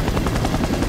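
Helicopter in Resident Evil: Operation Raccoon City, a loud, close, continuous rotor thrum with rapid rhythmic chopping pulses and no voices over it.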